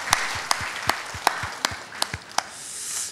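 Sharp, evenly spaced claps ring out about eight times over a bed of scattered applause at a church service, which swells into a brief wash before fading.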